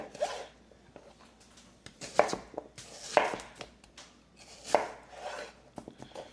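An onion is chopped on a board in a home kitchen, with about four sharp knife strikes spaced irregularly and heard close up, and no talking.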